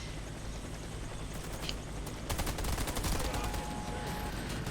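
Gunfire crackles through a Warface shooter battle while a K50 helicopter rumbles overhead, with shots growing denser and louder in the second half, a steady low engine roar beneath.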